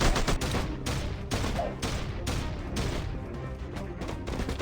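Rapid bursts of sniper gunfire in the Blockman Go Frontline shooting game, loud and dense with overlapping shots and crashes running throughout, no talking.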